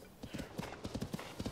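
A horse's hooves clip-clop in quick, even rhythm in Zelda: Tears of the Kingdom, crisp repeated footfalls at moderate volume with a faint voice underneath.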